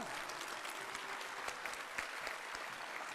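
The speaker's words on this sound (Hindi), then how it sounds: "एक बार उनके लिए भी जोरदार तालियां हो जाएं, अरे और ज्यादा तालियां हो जाएं" An audience at a sannyas initiation and Ram Navami festival with Swami Ramdev applauds for N.P. Singh, fairly faint but steady, dense clapping with a few sharper individual claps standing out.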